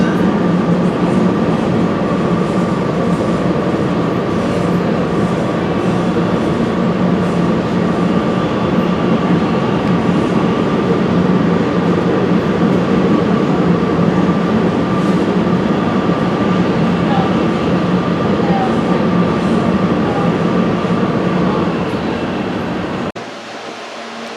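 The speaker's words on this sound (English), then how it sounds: "Train station to and from the airport." A train at an airport rail station in Denver, Colorado rumbles loudly and steadily, with a sustained tonal hum, then the sound drops off abruptly near the end.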